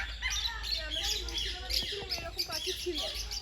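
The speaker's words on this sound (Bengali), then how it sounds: "এখানে টিয়া পাখি রয়েছে এগুলো সব টিয়া পাখি হ্যাঁ এগুলো লাভ বার্ড" Parrots and lovebirds call inside an aviary at a forest sanctuary in Parmadan, with sharp, overlapping squawks and chirps at close range.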